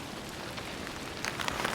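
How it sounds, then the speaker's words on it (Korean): Heavy raindrops pelting down with strong wind at a rainy campsite, a steady dense hiss of rain that swells toward the end, with no voices. "근데 굵어진 빗방울에 이제는 거센 바람까지 합세를 했습니다."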